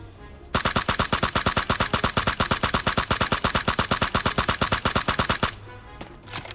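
Rapid automatic gunfire in a first-person shooter, fired while standing: a long, evenly spaced burst of sharp, loud shots lasting about five seconds, then silence and a few faint clicks.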